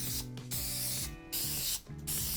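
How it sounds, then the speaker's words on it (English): Grease spray hissing into baking tins being prepared for wonton wrapper cups, three separate bursts close up over a steady kitchen hum. "I'm gonna just grab some spray grease and grease our tins right over here."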